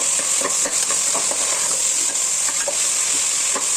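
Grated beetroot for palya fries in oil in a pan, a steady close sizzle punctuated by regular light scraping stirs and faint utensil clicks, with no voices.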